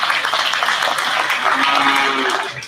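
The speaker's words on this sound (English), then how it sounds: "Please give them a big round of applause" A crowd at a county fair calf and dairy livestock show claps and cheers in a dense, continuous burst that swells briefly and then starts to fade toward the end.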